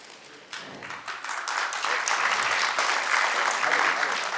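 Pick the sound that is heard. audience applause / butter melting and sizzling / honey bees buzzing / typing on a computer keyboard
audience applause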